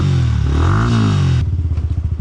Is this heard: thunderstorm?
no